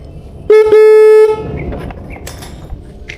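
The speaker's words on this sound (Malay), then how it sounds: "Kita horn dulu." A motorcycle horn gives two short honks in quick succession, loud and close, the second held about a second, followed by street noise.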